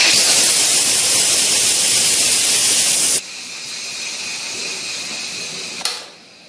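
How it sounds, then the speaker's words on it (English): Loud steam rushing from the vent of an Instant Pot IP DUO60 pressure cooker during quick pressure release, a harsh hiss that cuts off abruptly, then a quieter hum and a short final puff. "The second way is the quick release, and that means you just turn the steam release handle to the venting position."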